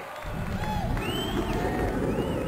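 Dense crowd cheering and murmur from Tony Hawk's Pro Skater prototype on PlayStation, loud and continuous with faint whistling tones, briefly with a voice nearby.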